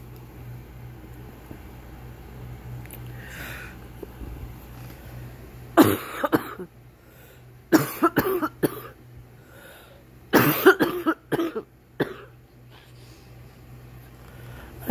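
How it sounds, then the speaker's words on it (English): Someone sick with covid coughing in several harsh, close bursts, a few single coughs and then tight clusters, over a low steady background hum in a quiet room. "I'm coughing so much."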